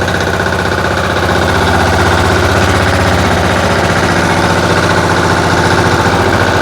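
A Motor Sich walk-behind tractor engine runs loud and close as the machine drives along with its tiller attached but switched off, a steady rapid chugging drone with a fast pulsing beat and a faint knocking edge.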